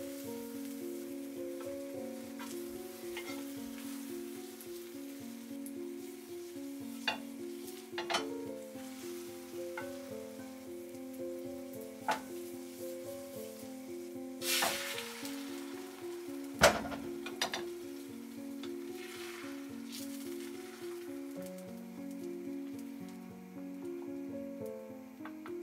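Tamagoyaki egg omelette cooking in a pan, a steady soft sizzle with occasional clinks and scrapes of utensils against the pan, close and quiet throughout, no talking.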